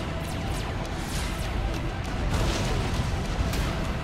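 Rumbling bomb explosions and booming impacts in the strategy game Supreme Commander, continuous dense low blasts layered over one another at steady loudness, with no clear talk.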